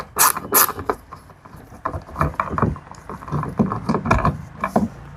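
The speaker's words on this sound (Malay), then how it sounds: "So sekarang kita buka skru ni." Screws being undone on a Honda City GM door trim, with irregular clicks, ratcheting scrapes and plastic knocks close by, coming in short bursts with pauses in between.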